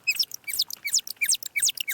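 Humpback whale song sped up fourteen times becomes rapid, bird-like chirps and sweeping whistles, repeated in quick rhythmic bursts, fairly faint and heard alone.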